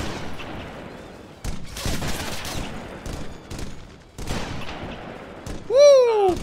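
Rapid SMG bursts in Halo Arma 3 rattle out in several loud volleys, broken by short pauses, with a sweeping electronic tone near the end.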